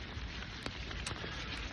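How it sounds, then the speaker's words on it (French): Steady rain hisses and patters on cold late-autumn ground, a dense continuous wash broken by a few sharper drops, close and moderately loud with no voices. "Il pleut, il fait froid."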